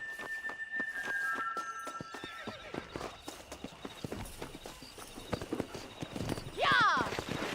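Horse hooves clip-clop steadily while riding in Red Dead Redemption, a rhythmic trot running under game music and dialogue, with a horse whinnying loudly near the end.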